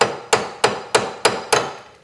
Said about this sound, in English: so we're just going to take a hammer